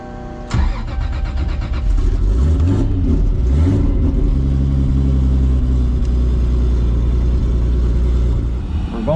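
A fast car fires up and accelerates hard, the loud engine note rising and climbing through revs, then holding a strong sustained roar, close and dominant with no talk.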